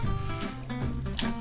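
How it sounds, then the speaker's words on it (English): Brine poured from a container over smoked trout half-pounders in a kitchen, giving a close, short burst of splashing and trickling liquid with small drips and uneven surges. "Now, I'm very simply going to pour this brine"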